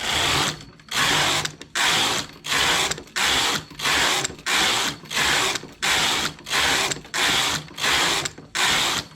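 A domestic knitting machine carriage runs back and forth along the needle bed, knitting rows with two strands of industrial 228 thread at tension setting 0. It makes steady, evenly spaced ratcheting clatters, loud and close, with no talk.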